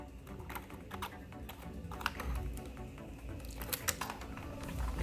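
Quiet typing on a computer keyboard, a steady patter of light key clicks with brief clustered bursts, close by and alone with no talk.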